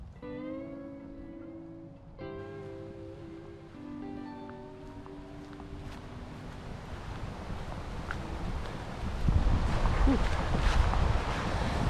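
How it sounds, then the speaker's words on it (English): Wind gusts blow outdoors at a sheltered kayak fishing spot, a broad rushing roar against the microphone that builds and grows louder toward the end, after a sustained tonal hum at the start. "Windy today."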